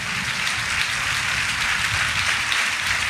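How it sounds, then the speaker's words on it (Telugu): A church congregation claps loudly together, a dense steady wash of applause lasting a few seconds with no voices over it. "ఒకసారి బిగ్గరగా చప్పట్లు కొట్టండి"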